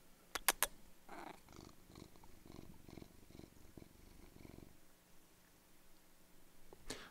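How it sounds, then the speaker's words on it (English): A cat purrs right into the microphone in a steady, low rumbling pulse for several seconds, quiet and close, preceded by a few sharp clicks and with a faint room hiss afterwards. "I was trying to get some purrs in there."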